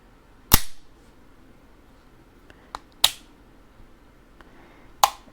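Four sharp shots from a WWII-era pistol crack out at uneven intervals, each a loud close report with a quick decay and quiet gaps between.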